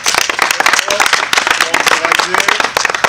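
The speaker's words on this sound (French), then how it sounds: "on l'applaudit encore" An audience at a slam and music show applauds loudly and close, dense clapping with a voice speaking over it.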